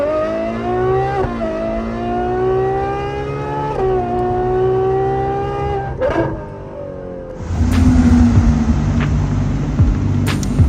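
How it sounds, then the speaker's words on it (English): A tuned Ferrari 812 with a V12 engine revs hard, its high harmonic wail rising and falling up close, followed by a louder, rougher roar as the throttle opens fully toward the end. "To me, this is one of the best sounding Ferraris I've ever driven."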